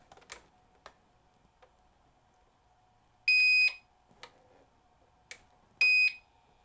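A Belkin F6C325-SER UPS under battery test sounds two loud steady electronic beeps about half a second each, separated by scattered soft clicks and taps in a quiet room.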